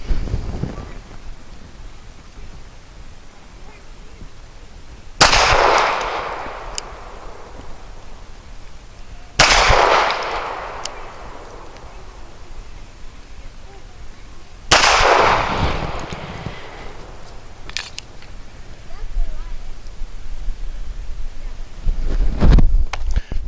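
An Arsenal Firearms Strike One pistol fires Archon 124 grain rounds with black nickel plated cases outdoors: three sharp reports spaced several seconds apart, each with a decaying tail, over steady wind noise.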